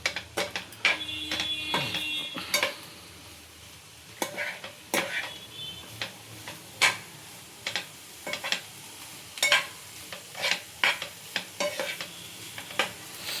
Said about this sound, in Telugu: ఇప్పుడు దీన్ని బాగా కలుపుకుందాం హై ఫ్లేమ్ మీద